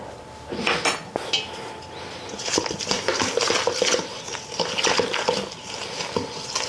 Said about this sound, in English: We're going to mix that in there really well, make a nice sponge.